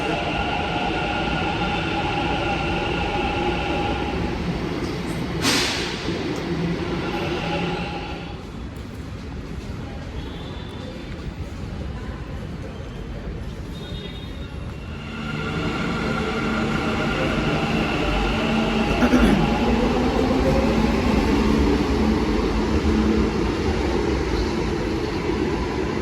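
A Bengaluru metro train rumbles and whines steadily close by, the roar easing to a quieter stretch midway before swelling again, with occasional faint background voices.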